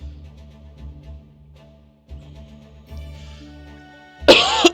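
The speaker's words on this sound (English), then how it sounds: "Sorry about the cough." Hard throat-rasping coughs from a man, several harsh bursts spaced over a few seconds, the last one loudest and sharpest.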